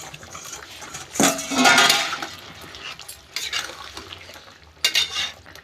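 Potatoes being stirred in a cooking pot with metal scraping and clinks, then a lid set down over the pot, with several sharp clanks of cookware close by and no talk.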